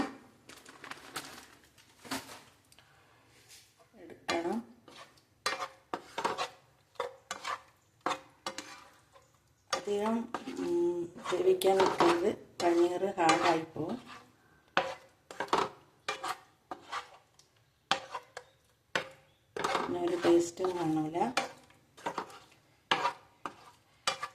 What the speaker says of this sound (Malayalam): മീഡിയം ഫ്ലെയിമിലിട്ട് ഒന്ന് ഇളക്കി